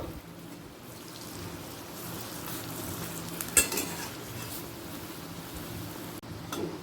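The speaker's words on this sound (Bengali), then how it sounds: "একটা দিক লাল করে ভাজা হয়ে গেছে এবার অপর দিকটাও উল্টে দেবো" Pea lentil fritters sizzle in hot oil with a steady crackling fry, broken by sharp scraping clinks of a spatula as they are turned over, one around midway and another near the end.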